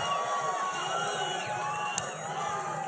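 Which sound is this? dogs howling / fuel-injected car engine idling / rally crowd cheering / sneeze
rally crowd cheering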